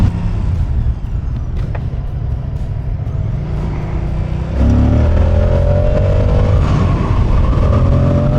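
A 2023 Moto Guzzi motorcycle riding in traffic, its engine droning loud and close with wind noise, then climbing in pitch as it accelerates partway through.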